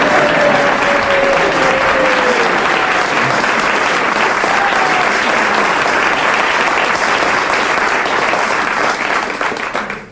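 A studio audience bursts into sustained, loud applause for a husband-and-wife singing duo, a dense clapping wash holding steady for about ten seconds before tapering at the end.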